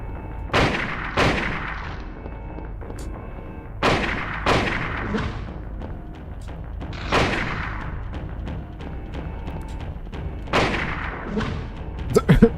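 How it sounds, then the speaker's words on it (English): Hunting rifle shots in the video game Silent Hill, several heavy booming blasts fired in pairs and singles at irregular intervals, each with a rumbling tail, with a voice talking in between. "let's just use the hunting rifle."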